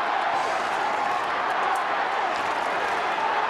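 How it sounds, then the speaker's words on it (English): A large Australian football crowd at Subiaco Oval during a Fremantle versus Carlton game, a steady dense roar of cheering voices filling the stadium with no breaks. "And this crowd getting very involved now."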